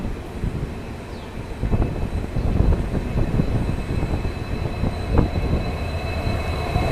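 The Delhi-Jaipur double-decker train idling at Gurugram station in Haryana, a steady low rumble and hum of the stationary carriages with faint clanks and platform ambience, heard nearby without talking.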